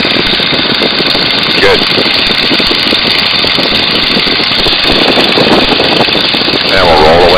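The radial engine of a Boeing Stearman N2S-3 biplane drones loudly and continuously in flight after being throttled back to about 1500 RPM, with brief intercom talk over the engine.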